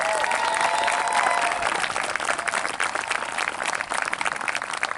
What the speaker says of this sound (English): Let's give our Peekskill High School band and our City Singers a big round of applause.